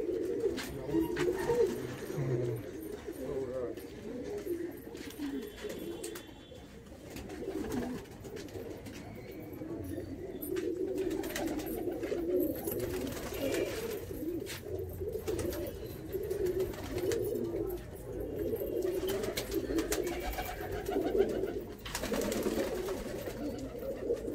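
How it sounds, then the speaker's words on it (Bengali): Many pigeons coo continuously inside a loft of high-flying Andhra pigeons, a dense, low, overlapping murmur that stays steady throughout. "এখানে কি কি পায়রা আছে?"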